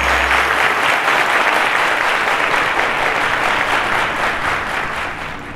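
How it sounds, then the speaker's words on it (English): Studio audience applause on the Cowbellpedia quiz show, loud sustained clapping that fills the room and tapers slightly toward the end. "Ladies and gentlemen, a round of applause to them."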